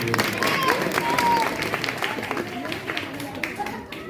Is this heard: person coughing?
no